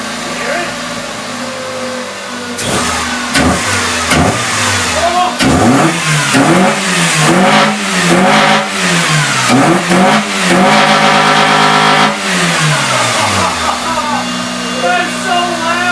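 Car engine fitted with a cold air intake starts and revs repeatedly, loud and close, with rising and falling surges and a steady idle between, as people talk excitedly over it.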